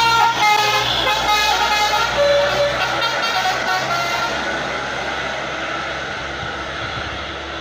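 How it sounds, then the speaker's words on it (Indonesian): Large tour buses arriving in crowds at the Pinus Pengger pine forest attraction, a loud, steady engine rumble with a brief horn toot, filling the scene without talk. "Oke, kembali masuk lagi satu unit bus besar."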